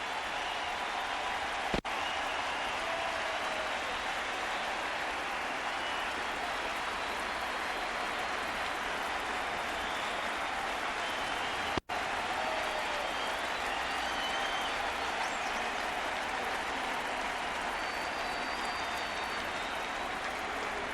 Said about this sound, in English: Another standing ovation.